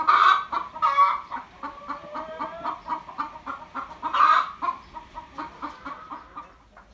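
A rooster calls in short repeated bursts while hens cluck steadily around him, close and lively with no talking.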